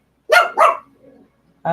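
A dog barks indoors in the background: two quick, sharp barks, a faint low grumble, then another bark starting.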